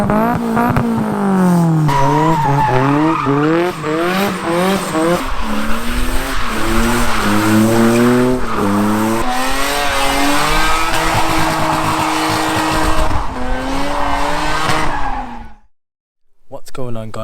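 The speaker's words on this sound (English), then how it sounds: "Today we're going to be racing a Mitsubishi Colt running 215 brake horsepower" A 215 brake horsepower Mitsubishi Colt races an Audi S3 at a car meet, engines revving loudly up through repeated gear shifts with tire squeal, the loud run ending in a sudden drop near the end.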